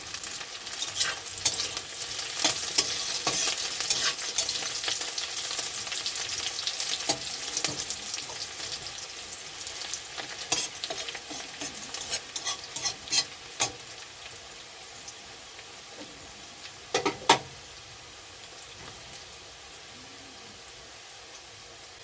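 Onions frying lightly in a pan, a dense, steady sizzle with frequent scraping and clicking stir strokes up close, easing off near the end, with no one talking.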